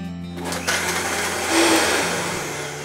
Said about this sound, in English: Then we add ginger, some clam juice, white soy sauce, and soy lecithin to a blender and blend away.